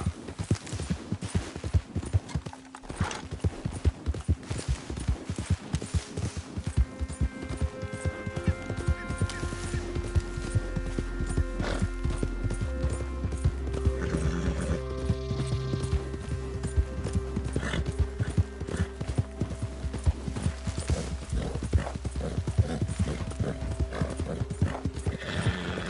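Horse galloping in Red Dead Redemption 2, a fast steady clip-clop of hooves running throughout with a brief whinny, loud and close over a game soundtrack and ambient noise.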